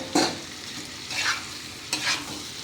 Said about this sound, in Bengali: আলুগুলো দিয়ে এবার এর সাথে আমি কষতে থাকবো কিছুক্ষণ।